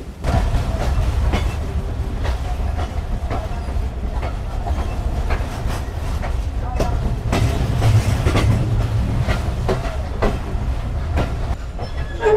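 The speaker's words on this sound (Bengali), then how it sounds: "দুপুর 3:13 এসে থেমে গেল রানীনগর রেলওয়ে স্টেশন" The Banglabandha Express train pulls into Raninagar railway station in Bangladesh. Rhythmic clickety-clack of wheels over rail joints rolls beneath a steady rumble, with louder sharp clacks throughout.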